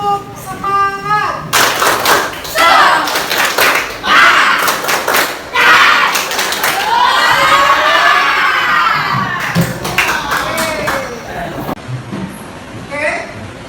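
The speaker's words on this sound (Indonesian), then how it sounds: "tepuk semangat." A classroom of students performing the rhythmic 'tepuk semangat' clapping chant during an Islamic religious education lesson, loud bursts of clapping alongside children's shouts and cheering, with a teacher's voice at the start.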